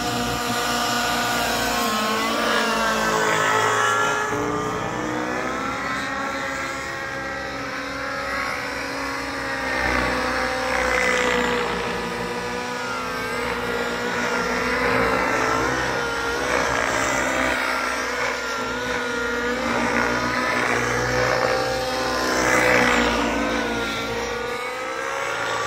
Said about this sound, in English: the two helicopters fire up to head speed.